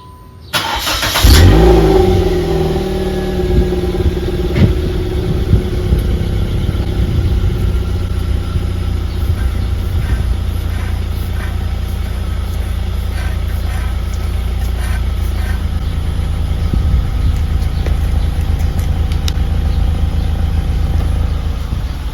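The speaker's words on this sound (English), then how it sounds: "So let's go turn on the engine." A car engine cranks and catches, then settles into a steady, loud idle that rumbles on without a break.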